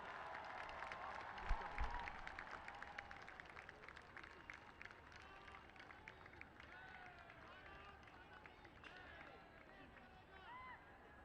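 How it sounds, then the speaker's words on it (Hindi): Crowd applause at an outdoor Dussehra festival event welcoming the Prime Minister, a dense, fairly faint wash of clapping and crowd noise that starts strong and continues steadily, with voices mixed in. "जोरदार तालियों के साथ अभिनंदन।"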